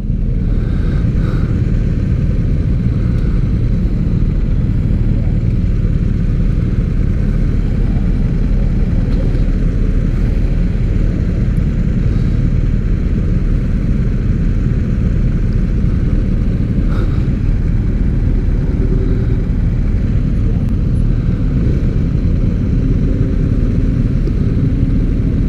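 A BMW R1250R motorcycle being ridden, its engine giving a steady, loud, low drone mixed with wind rush that continues without pause throughout.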